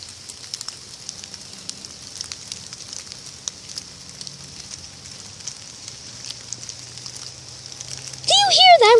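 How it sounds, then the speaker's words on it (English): Heavy rain falls outside as a steady, soft hiss with scattered drips and patter, fairly faint, before a sudden louder burst near the end. "It's like really raining. You can even hear it."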